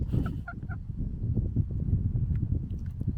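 Newly arrived chickens clucking and calling near a heat lamp, a busy overlapping stream of low clucks with a few higher honking notes early on, close and continuous.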